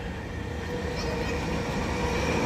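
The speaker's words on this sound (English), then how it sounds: "down here we have the probably packed Dain-Toshi Line train tracks, or Dain-Toshi Line trains, shuffling people into the center of Tokyo to their jobs" A packed Den-en-toshi Line commuter train rumbles past in a residential part of Setagaya, Tokyo, a steady low rolling roar with faint squeals on top, fairly close and continuous throughout, with no talking.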